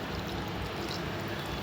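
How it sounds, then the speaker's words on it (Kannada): Water pours into green masala for a fish fry in a home kitchen, a steady, soft, close splashing trickle with no voices. "ಈಗ ಇದನ್ನು ಸ್ವಲ್ಪ ನೀರು ಹಾಕಬೇಕು."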